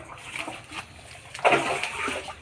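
Water drawn from a garden well splashes and sloshes close by, small splashes followed by a louder pour and splatter midway.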